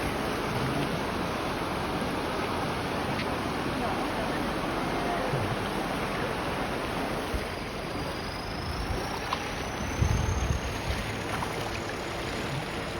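Strong floodwater in Li District, Thailand, roars steadily and broadband, a continuous turbulent wash with faint wind noise and an occasional distant engine hum.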